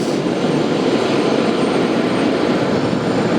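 A LATAM jet airliner takes off at JFK airport, a loud, steady, broad engine roar that holds evenly throughout with no voices over it.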